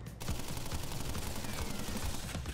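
Rapid continuous gunfire in the Crash Bandicoot video game, a dense stream of bullet shots running almost unbroken for a couple of seconds at moderate level.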